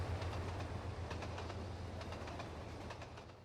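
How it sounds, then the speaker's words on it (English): A train running in the railway simulator Trainz 22 on an Argentina route gives a steady low rumble with faint rhythmic rail clicks and soft bird chirps, distant and quiet throughout. "Let's move this train back, because I'm not really wanting to derail it."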